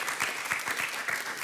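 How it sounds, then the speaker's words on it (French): Studio audience on a French dating game show applauds to welcome a couple of guests, a steady dense wash of clapping with rhythmic accents throughout. "on vous applaudit, soyez les bienvenus"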